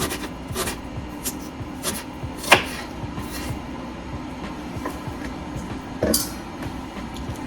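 An onion is chopped with a knife on a board, giving sparse, irregular knocks with a couple of sharper hits over a quiet background hum.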